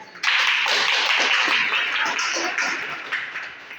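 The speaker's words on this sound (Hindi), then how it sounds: "एक बार ताली बजा।" A room of people claps together at a sales presentation, a dense burst of hand claps that keeps going for several seconds at a steady level and tapers slightly toward the end.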